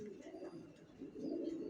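Racing pigeon chicks from a vaccinated loft coo in low, soft, repeated murmurs that swell louder toward the end, with faint background noise.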